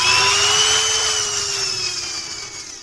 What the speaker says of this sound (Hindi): लेके आए हैं जानवरों के बाल काटने की मशीन।